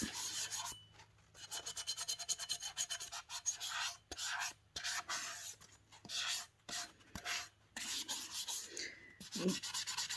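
A tumbler cup is hand sanded to knock off its glossy finish, with repeated scratchy rubbing strokes in uneven bursts and short pauses, close and fairly quiet, without speech.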